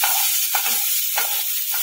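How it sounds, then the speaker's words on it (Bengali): Boiled, salted potatoes are stirred into lightly fried onions in a hot pan, a steady sizzle with two or three scraping strokes of a spoon, close and alone. "এখন এর মধ্যে সেদ্ধ করে রাখা আলুটা দিয়ে দিলাম"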